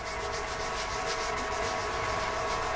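A rag rubs polish onto a resin and wood gumnut pendant, producing a steady, close, continuous rubbing hiss with no breaks and no voices.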